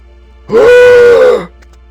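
A pig creature in the video game Mr. Meat 2 lets out a single loud, drawn-out groaning moan close by, lasting about a second against a quiet background.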